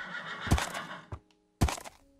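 A horse in the Minecraft video game neighs twice in quick succession, a close, loud whinny with a short thunk between the calls and no talk.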